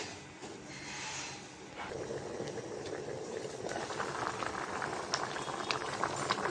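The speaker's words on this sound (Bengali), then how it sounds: "গোষ্ঠটা বলক এসেছে" Beef curry with potatoes bubbles and simmers in a covered pot, a steady rolling boil of dense, close liquid burbling that builds slightly in intensity throughout.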